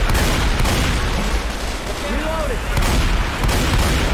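Dense gunfire in the zombie shooter Left 4 Dead, a continuous loud barrage of overlapping shots with booming low end, while players talk over it.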